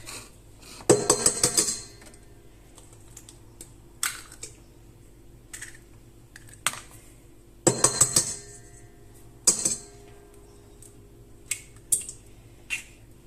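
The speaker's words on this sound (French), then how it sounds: "je vais casser mes 2 œufs" Two eggs cracked into a food processor bowl that already holds egg yolks, heard as sharp close taps and brief clattering bursts spread across the stretch, with quiet pauses between.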